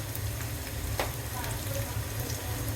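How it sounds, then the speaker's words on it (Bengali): Onions and chilies frying in oil sizzle steadily and close while salt is stirred in, with a brief scrape of the spoon partway through. "একটু নেড়ে লবণ মিশিয়ে নিব"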